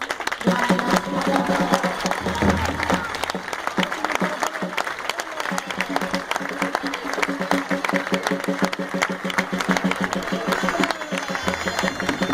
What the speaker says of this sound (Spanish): yo creo, un buen aplauso.